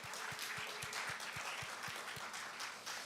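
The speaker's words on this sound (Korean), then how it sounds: "박수 한번 좀 드리도록 하겠습니다." Steady applause from a church congregation, fairly faint and distant, with a regular low thumping underneath.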